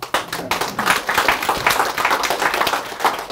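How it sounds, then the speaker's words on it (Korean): Audience applause for Professor Park In at a Korean colloquium, a steady patter of many hands clapping, fairly close and continuous, with no talk over it. "우리 박인 교수님께 박수 한번 보내요."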